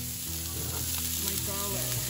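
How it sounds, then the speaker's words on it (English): Onion dropped into very hot oil in a pan, giving a loud, dense, continuous sizzle and crackle close by, with some stirring underneath. "Then I'm gonna put my onion"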